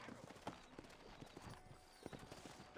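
Horse hooves clip-clop at a steady walking rhythm in the Red Dead Redemption video game, near and fairly quiet, with a faint whinny-like bit near the end and no talk.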